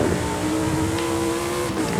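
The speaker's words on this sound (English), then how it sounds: "you couldn't hear this beautiful V10" A tuned, modified V10 engine revs hard in Forza Horizon 5, giving a loud, close, sustained high-pitched howl with no talk over it.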